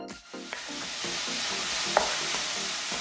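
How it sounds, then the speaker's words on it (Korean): Enoki mushrooms stir-fried in a pan with onion and carrot, a steady close sizzle broken by a few scraping stirs of a utensil against the pan, no voices. "볶아서 반 정도 익으면 팽이버섯 넣고 섞어주고"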